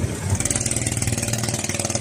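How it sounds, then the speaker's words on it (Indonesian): The speed boat SD Kurnia 2's engine runs steady and loud from inside the boat, throbbing in a fast regular pulse that stays constant throughout. "inilah mesin dari kapal SD Kurnia 2"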